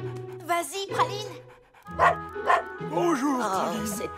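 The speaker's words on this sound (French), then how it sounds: "Praline, n'aboie pas après les résidents." A small dog gives several high yips and barks, mixed with whimpering, close by, with voices talking around it.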